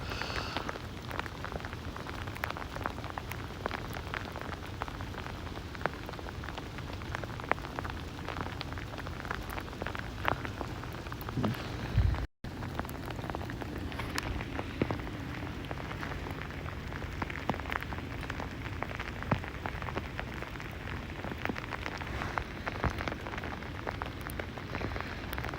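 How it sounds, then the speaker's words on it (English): Freezing rain mixed with sleet falling outdoors during a New York City sleet storm makes a dense, unbroken patter of drops on surfaces, steady and fairly loud for the whole stretch, with no voices. "Right now we're getting freezing rain mixed with sleet."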